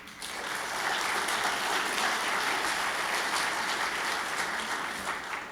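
An audience at the Irish Unity Summit breaks into applause, a loud, steady, continuous wall of clapping that holds evenly for several seconds.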